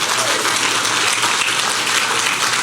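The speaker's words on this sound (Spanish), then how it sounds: "Dale un aplauso al que vive y reina" Church congregation applauding at a Spanish-language sermon, a dense, steady wash of many hands clapping that fills the room evenly for a few seconds with no talk over it.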